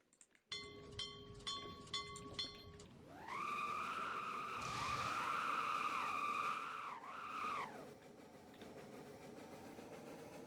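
Train ride in a winter-event video game: a rising mechanical whine builds into a loud, steady, humming drone with squealing overtones that holds for several seconds, then dips and fades, after brief chiming electronic tones at the start.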